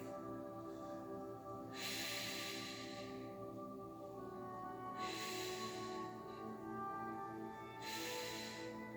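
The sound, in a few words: deep breathing during a yoga pose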